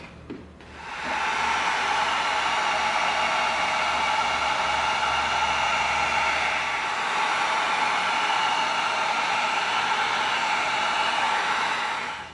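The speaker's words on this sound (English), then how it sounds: "let's heat seal this whole thing now." A heat gun heat-seals the surface of a foam prop pistol modeled on the Avatar RDA sidearm, its fan starting after a soft bump and then blowing as a loud, steady hiss close to the mic for the rest of the stretch.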